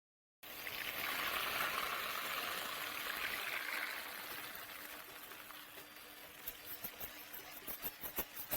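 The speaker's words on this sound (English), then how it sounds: "I'll start by adding my fats before I pour in the mixture I made in the blender." A thick blended flour mixture pours steadily into a pot with a soft, rushing gush, fading to scattered drips and small clicks at the end; no one speaks.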